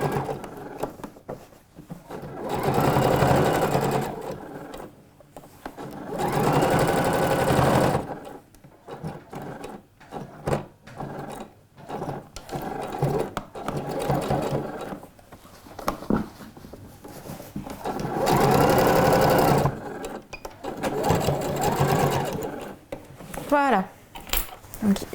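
A sewing machine stitches the back seam of Alfie trousers in bursts, stopping and starting several times, with quieter gaps of handling and faint talk between runs.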